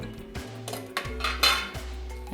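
Ground niger seed powder being mixed into garlic chutney in a pan, with a spoon clinking and scraping against the metal in several distinct knocks and strokes, close and fairly soft.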